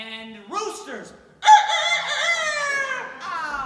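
A person mimics a rooster's cock-a-doodle-doo with a strained, wavering vocal crow, a short rising call followed by a long sustained held note, loud and close with no other sounds.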